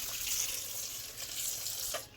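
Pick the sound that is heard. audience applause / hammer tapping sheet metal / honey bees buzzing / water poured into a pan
water poured into a pan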